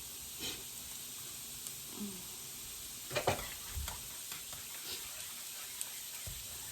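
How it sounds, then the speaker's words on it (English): Tomato gravy heats on high in a pan while being stirred, giving a faint steady sizzle broken by a few soft scraping strokes and clinks of the spoon. "I'm gonna just stir it really good."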